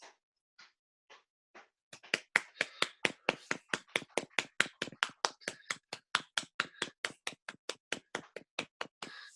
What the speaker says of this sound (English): Are you golf clapping?